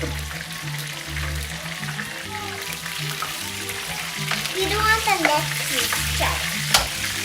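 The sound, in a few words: corn tortilla frying in pan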